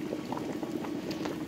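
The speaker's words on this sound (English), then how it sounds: "So we have rice boiling." Rice boils in a pot of water on the stove, a close, continuous bubbling and rolling gurgle with no voices over it.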